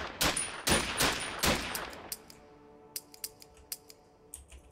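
Gunfire from a weapon in the video game Past Cure: four sharp, loud shots in quick succession, then a series of lighter mechanical clicks and ticks as firing stops.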